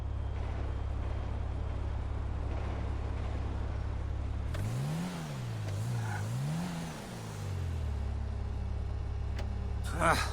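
A truck engine in GTA 5, driven away during a heist setup, rumbling low and steady with a rising, wavering rev midway after a stretch of background noise.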